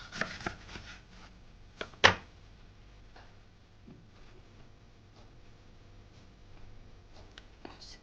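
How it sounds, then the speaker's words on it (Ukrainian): A knife cuts through crisp baked lard-dough cookies in a few sharp crunchy strokes, one loud snap near the middle, then quieter scattered taps and scrapes. "Даю охолонити і нарізаю ну, помірними шматочками."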